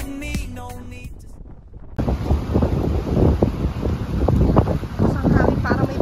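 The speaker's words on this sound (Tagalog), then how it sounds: "Ang hangin para may bagyo." Strong gusting wind buffets the microphone on a seaside coast at Bauang, La Union, with surf roaring beneath as a storm rolls in; a brief burst of music opens before the loud, sustained blustering takes over.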